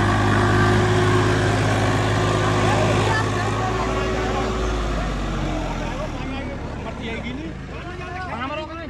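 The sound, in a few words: Swaraj 855 FE tractor engine starting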